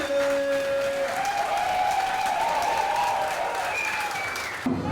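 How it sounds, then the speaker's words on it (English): Comedy show audience applauding steadily for nearly five seconds, a dense wash of clapping with crowd noise and a faint tonal hum underneath, cutting off abruptly at the end. "Ladies and gents, start clapping"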